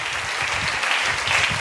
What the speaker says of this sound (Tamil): மீண்டும் கைத்தட்டி ஆமேன்னு சொல்லுங்க